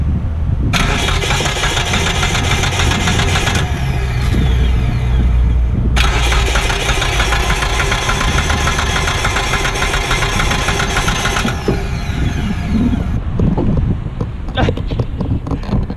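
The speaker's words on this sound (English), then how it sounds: "Josh, try to crank it one more time." A damaged Mitsubishi Eclipse with a suspected camshaft position fault cranks in two long, loud starter bursts, then catches and settles into a rough idle, with heavy wind noise on the microphone throughout.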